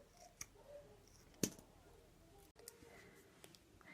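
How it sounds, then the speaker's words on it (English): Scissors snip through lace into small pieces, a few sharp isolated clicks and cuts spread across a quiet close-up workspace. "Here I'm cutting the lace into small pieces."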